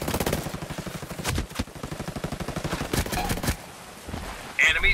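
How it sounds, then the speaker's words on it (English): Rapid bursts of automatic gunfire from hostiles in Ghost Recon Breakpoint PvP, dense rattling volleys with brief pauses across the whole stretch, loud and close. "Hostiles are shooting."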